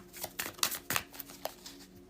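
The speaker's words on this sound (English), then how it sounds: "I'm shuffling the cards and a card flipped up but then went back in" Playing cards, here tarot-style cards being shuffled during a reading, riffle and slap in a quick series of crisp bursts close up, with a steady low hum beneath.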